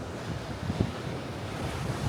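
Ocean waves wash along the coast near San Simeon, California, at sunset, a continuous rushing surf mixed with gusty wind buffeting the microphone.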